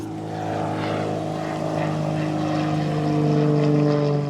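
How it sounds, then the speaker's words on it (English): A propeller airplane flies overhead above a garden pond build, a steady droning engine hum with a low buzzing tone that swells slightly louder toward the end, with no talking. "Just wait for this plane to go over."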